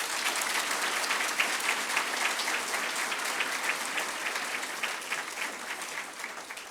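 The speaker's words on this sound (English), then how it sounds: "can I hear the energy through a welcome clap that you do for yourself?" Workshop participants give a welcome clap for themselves, a steady wash of applause from a moderate group, fairly faint and tapering slightly toward the end.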